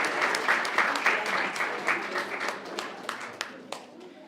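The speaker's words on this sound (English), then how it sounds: "Let's give another round of applause." Audience at a board of education meeting claps steadily, a close, lively round of applause with individual hand claps audible that gradually thins and fades.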